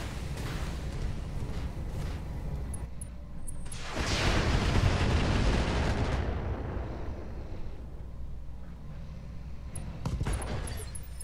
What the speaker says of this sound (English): Streak ammo explosion.